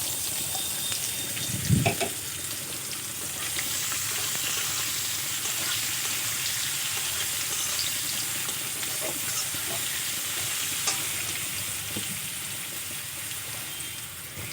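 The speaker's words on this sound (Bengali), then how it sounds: "রসুনটা ভাজা হয়ে গেছে, গাজর কুচিগুলো দিয়ে দেব" Chopped carrots and crushed garlic fry in white oil in a wok, giving a steady moderate sizzle with occasional stirring scrapes and clinks, close by and without talk.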